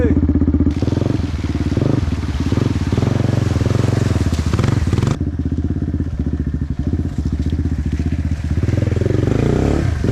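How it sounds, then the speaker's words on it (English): An old Yamaha TDR motorcycle with a new rear tyre rides over a rocky track. Its engine drones loudly and continuously, with clattering and thumping from the rough ground and a sharp change in tone midway. "Amazing how much easier it is getting places with a bike."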